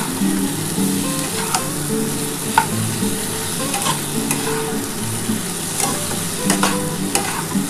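Potatoes and Malabar spinach stems fry in a pan with a constant sizzle, broken by several sharp scraping strokes of stirring, close and clear with no talk.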